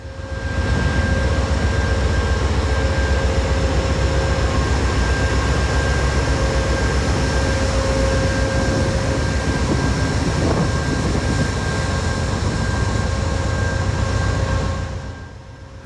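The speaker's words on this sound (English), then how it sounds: "The train just pulls into town." Amtrak Vermonter train rolling into a town-center station with no platform, a steady loud rumble with a constant tonal hum and rail noise throughout, easing off at the very end.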